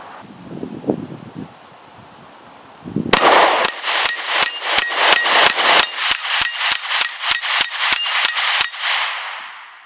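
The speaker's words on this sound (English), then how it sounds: "that was a pretty fast cadence of fire to go through that whole magazine" An IWI Masada pistol fires a full magazine in rapid succession outdoors, about fifteen sharp, loud shots at a steady fast cadence with ringing metallic echoes, under wind noise.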